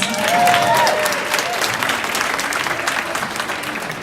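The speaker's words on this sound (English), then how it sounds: "Can we all give you guys a round of applause?" Audience at a spotlight talk on loneliness and networking gives a round of applause, dense clapping from a crowd that stays fairly even and tapers slightly, with a brief voice near the start.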